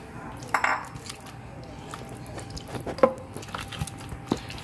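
Wet squishing and clinking as masala marinade is mixed into raw chicken in a bowl for KFC-style crispy fried chicken, with scattered soft squelches and a few sharp utensil taps against the dish, fairly quiet and close.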